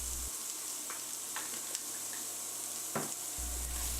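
Julienned carrot fries in a tablespoon of oil in a skillet, giving a steady close sizzle broken by a few light stirring clicks and scrapes.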